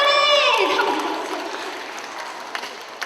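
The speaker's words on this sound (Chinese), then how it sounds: "掌声鼓励" Audience clapping at a Christmas thanksgiving church service, a broad wash of applause that starts full under a brief voice and gradually fades over a few seconds.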